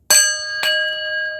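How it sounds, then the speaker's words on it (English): A bell is struck twice, about half a second apart, each strike bright and metallic with a sustained ringing tone that lingers and slowly fades, close and clear with no voices. "Let's ring the bell, okay?"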